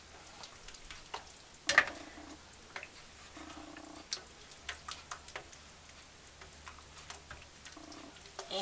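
Sliced mushrooms and canned oysters warming in a pan for venison stroganoff, a soft steady sizzle with occasional stirring clicks and scrapes, close and quiet, no talking.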